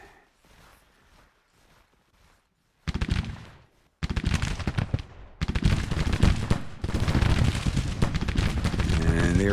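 Artillery and gunfire in the Grand Tactician: The Civil War game, starting as faint distant shots and swelling into dense, loud, continuous volleys of rifle fire and booming cannon that build steadily to a roar.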